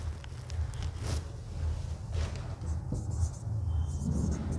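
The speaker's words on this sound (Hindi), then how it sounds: "उसके बाद मैं 2-3 सेंटेंस और लिख देता हूँ।" Chalk or marker writes sentences on a board in a classroom lesson, producing faint, brief scratchy strokes in irregular bursts over a quiet background hum.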